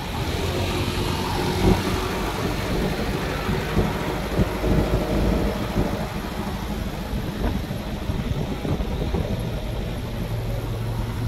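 Heavy trucks and buses pass on a road, a loud continuous low engine rumble and tire roar close by, swelling and fading in broad waves over the whole stretch with no talk.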